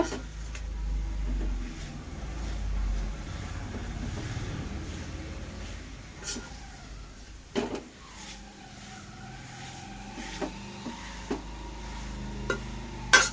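Dates mixture being stirred and roasted in a pan for sugar-free dry fruit laddu, giving a low, steady scraping rumble with a few sharp clicks of the spoon against the pan.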